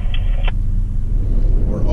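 A car comes up from behind on a remote Cape York road in outback Queensland, a steady, close low rumble that holds evenly for the whole moment.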